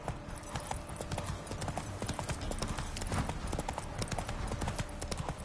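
Roach the horse gallops in The Witcher 3, a rapid, continuous clip-clop of hooves close by, steady and rhythmic with a faint voice briefly underneath.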